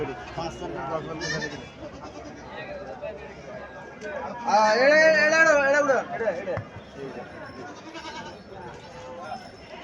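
Local male goats bleat at a busy village livestock market in Comilla, with one drawn-out, wavering bleat rising above a crowd of people talking nearby.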